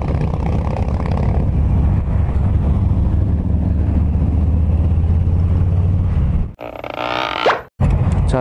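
Harley-Davidson Softail Street Bob motorcycle cruising at an easy, unhurried pace on a road heading out toward Jeonju's outskirts, a steady low engine drone with heavy wind rush, ending in a brief burst of different noise and two short dropouts.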